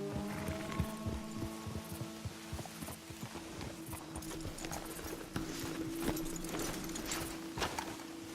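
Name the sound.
horse hooves, Red Dead Redemption 2 video game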